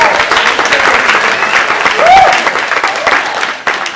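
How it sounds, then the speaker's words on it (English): Steady audience applause fills a hall as a volunteer is called up on stage at a mentalist show at UW Fox Valley, with a brief voice cutting in near the middle. "Round of applause for this man."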